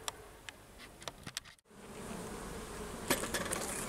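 Honeybees buzz around a beehive during formic acid treatment, a faint, steady hum with scattered close insect passes and small clicks or taps, outdoors and without talk.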